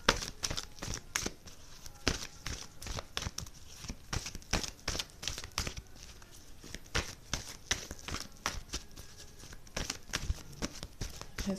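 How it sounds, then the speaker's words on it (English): Tarot cards shuffled by hand in a dense run of crisp riffling flicks and soft crinkles, close and fairly quiet, with no voice over them. "Let's give the cards a quick shuffle"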